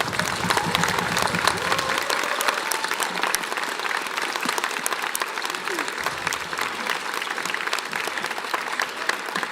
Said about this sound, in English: can everyone please give me a huge round of applause for Hugh and Ben?